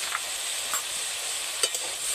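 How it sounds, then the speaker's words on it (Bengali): Fish with turmeric, red chilli powder and slit green chillies being stirred in mustard oil in a pan, a soft steady sizzle with a few faint scraping stirs, quiet and close, no talking. "এইবার এরকমভাবে কয়েকবার নেড়ে নেব"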